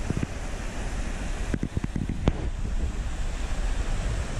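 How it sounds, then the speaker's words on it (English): Running water of the Allyn River rushes in a steady broadband wash with wind noise on the microphone, continuous and fairly loud, with a few brief knocks partway through. "Fresh, clean, beautiful running water."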